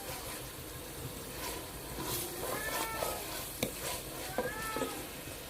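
Almonds, pistachios and cashews fry in a pan with a quiet, steady sizzle and occasional stirring clinks, while a cat meows a few times nearby.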